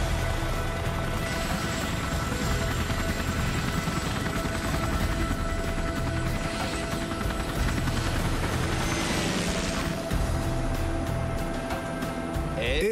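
Loud, steady helicopter engine roar with constant rushing wind noise, continuous throughout, with a faint high whine riding on top.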